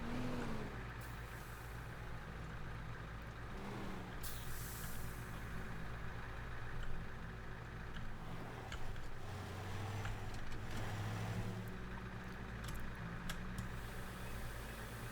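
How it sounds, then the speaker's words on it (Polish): A small car's engine drones steadily in the Teardown demolition game's port level, a continuous low rumble with occasional hisses and clunks, heard alone at a fairly quiet level throughout. "O, tu jest mały samochód, to go wykorzystam."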